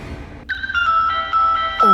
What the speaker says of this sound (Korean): 갑자기 제 휴대폰이 울리는 겁니다.